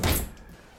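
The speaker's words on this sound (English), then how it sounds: "He's got a glass porch sliding door here." A glass sliding porch door at the back of a house opens with a short, close whoosh and rumble that quickly fades.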